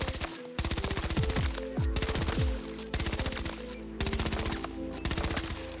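An automatic rifle loaded with high-powered rounds fires in Battlefield 2042, letting off several sustained full-auto bursts of rapid, evenly spaced loud shots, each separated by a short pause, with metallic clinks between them.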